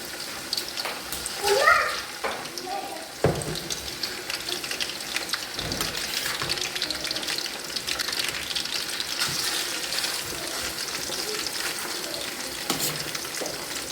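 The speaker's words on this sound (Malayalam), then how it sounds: "അതിലേക്ക് നമ്മൾ പുരട്ടി വെച്ചിട്ടുള്ള ഫിഷ് ഇട്ട് കൊടുക്കുകയാണ്" Marinated fish frying in hot oil for a Lakshadweep-style fish pickle gives a steady, dense sizzle with occasional pops and crackles, and someone speaks briefly over it near the start.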